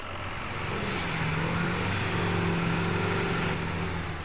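A deep 6.0 diesel truck engine in the video game SnowRunner drones steadily, holding a loud, rumbling rev throughout with a slight rise and fall in pitch.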